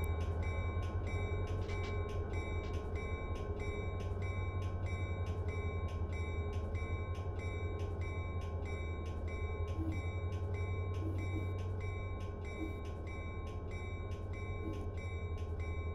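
A CSX freight train rolls steadily past at a railroad event, a loud continuous rumble with rhythmic metallic clicking of wheels on rail joints and a high squeal running through, no talk.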